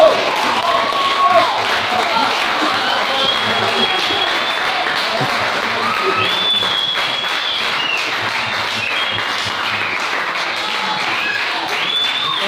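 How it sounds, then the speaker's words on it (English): Sustained audience applause at a business session on entrepreneurship, dense steady clapping from a crowd with some cheering, continuous and fairly loud throughout. "Let's clap for him."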